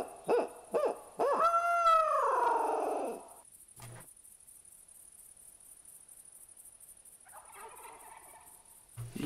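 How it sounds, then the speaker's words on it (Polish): Wild turkeys gobble in The Hunter Classic hunting game, a loud close burst of several rapid gobbles followed by quiet woodland with crickets and a fainter call near the end. "I jak miło, są indyczki."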